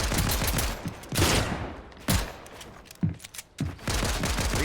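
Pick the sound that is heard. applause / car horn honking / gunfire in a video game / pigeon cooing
gunfire in a video game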